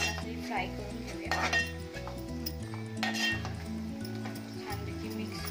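A utensil scrapes and clinks against a pan while prawn masala is stirred, with repeated metallic knocks in an uneven rhythm over a steady low background hum.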